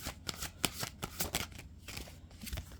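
Hecate oracle cards shuffled by hand, a soft continuous riffle and flutter of card edges with quick rhythmic bursts, close and fairly quiet.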